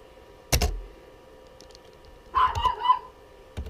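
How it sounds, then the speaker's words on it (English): A dog barks from just outside a door, a few short yips around a sharp knock-like thud, fairly close and clear with no talking. "My dog is literally barking at me from right out the door."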